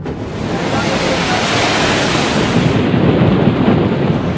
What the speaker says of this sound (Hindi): जिस वक्त अम्फान ने दस्तक दी, समंदर में ऊंची ऊंची लहरें उठने लगी।